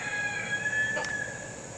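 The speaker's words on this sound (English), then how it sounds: "Noisy chicken." A rooster on a homestead crows once, a single clear cock-a-doodle-doo at moderate distance over a quiet outdoor background, fading out afterward.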